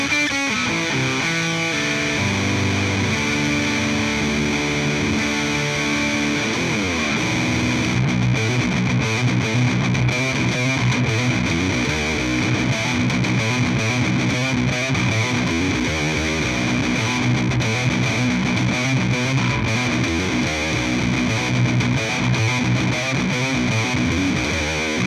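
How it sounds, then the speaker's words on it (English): Heavily distorted electric guitar played continuously, starting with a few ringing chords then a thick, saturated, buzzing riff that stays loud throughout. "Now we're going to go with full blast distortion"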